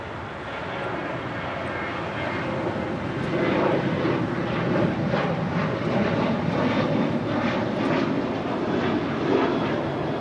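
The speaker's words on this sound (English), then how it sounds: "This is Alaska Airlines 1360, departing to Los Cabos on a 737-800." An Alaska Airlines Boeing 737-800 departs LAX with a loud jet roar that swells after the opening seconds and stays strong, with some pulsing texture and no talking.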